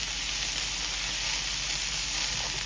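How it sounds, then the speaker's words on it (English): Food sizzles steadily in a hot pan while being stir-fried for a jerk ribs meal, a loud, even, close-up hiss with no talking over it. "So just stir fry that down."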